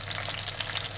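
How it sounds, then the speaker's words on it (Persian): Eggplant and onion fry in a pan of hot oil, giving a steady, close, dense sizzle that crackles continuously with no break and no voices. "نصف از این پیاز داغمون رو اضافه میکنم بهش"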